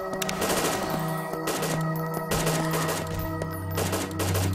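Rapid automatic gunfire in BrainBread 2, loud close bursts of quick shots repeating throughout over a droning tone.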